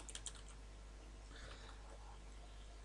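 Quiet, light keystrokes type code on a computer keyboard, a brief cluster of taps at the start over a low steady hum, then near silence.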